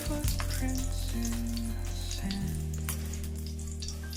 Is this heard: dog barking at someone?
no